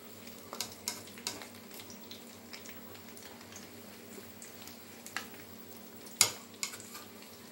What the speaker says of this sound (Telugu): ఇలా అన్ని వైపులా వేగేలాగా మనం గరిటతో కలుపుతూ వేయించుకోవాలి.